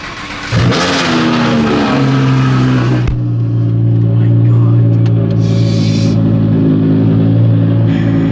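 A Corvette Z06 engine cranks and fires with a loud rev on a cold start, then settles into a deep, throaty, high idle that rumbles steadily and loudly.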